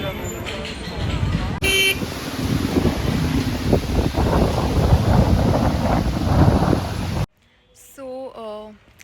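Strong wind blowing hard across a hillside market in Himachal, a steady roaring rush of gusts buffeting the microphone for several seconds, cutting off abruptly before a brief voice is heard.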